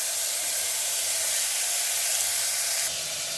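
Washed green peas frying in a hot pan, giving a continuous loud, bright hiss and sizzle close up that holds steady throughout and drops slightly right at the end.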